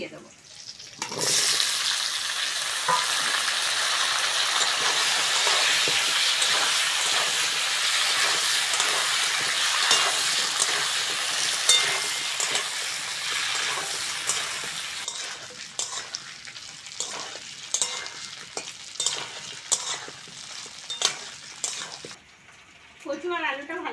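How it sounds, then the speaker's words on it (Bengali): Pieces of taro and potato fry in mustard oil with black nigella seeds and green chilies, giving a loud, close, continuous sizzle. Later it thins into crackling with repeated stirring scrapes, then briefly drops away. "কচু আর আলুটা ভালো করে ভেজে নিয়েছি"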